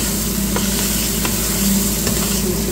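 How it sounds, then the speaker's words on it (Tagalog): Onion, tomato, ginger and garlic sauté for beef sinigang, giving a steady close sizzle with a few soft clicks of a stirring utensil against the pan. It stays loud and even throughout, with no voice. "Pinipisa na po natin yung sibuyas, kamatis, ginger, garlic"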